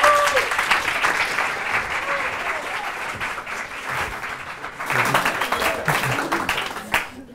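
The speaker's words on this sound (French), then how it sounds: "Je vous demande d'applaudir pour la première fois à Candidator aujourd'hui" Studio audience applause greeting a contestant on the French television game show Kandidator, a steady dense clapping roar lasting several seconds with a brief lull and a swell near the end, with cheering voices mixed in.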